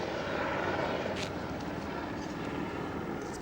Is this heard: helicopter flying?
yes